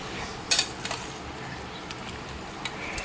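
Roasted goat head meat curry stirred in a pan with a metal spoon, giving a few sharp clinks and scrapes against the pan over a quiet background.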